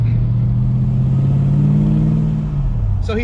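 A Mercury Cougar XR7 engine drones loud and close as the car accelerates, holding a steady low hum that rises slightly before easing off.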